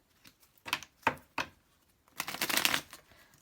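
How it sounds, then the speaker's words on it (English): Tarot card decks being shuffled close up: three sharp riffling bursts, then a longer, denser flurry of card flicks, with quiet gaps between. "let me go ahead and give this, give some of my decks some shuffles here"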